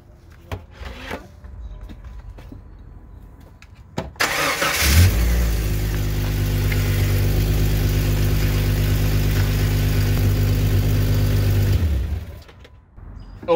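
A Jeep ZJ engine cranks and catches near the four-second mark, then idles steadily and loudly for about seven seconds before shutting off. Faint knocks come before the start, during a brake job on seized rear calipers.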